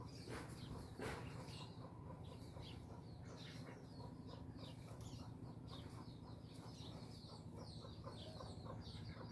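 Chickens cluck and squawk on and off over a steady low background hum, fairly close by.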